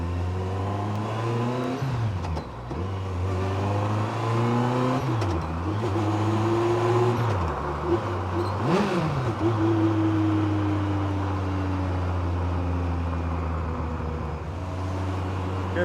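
A 2007 Campagna T-Rex trike with a 200 hp Kawasaki 1350cc engine and six-speed sequential gearbox drives along, its loud, close engine note rising and falling through repeated revs and gear changes before settling into a steady cruise.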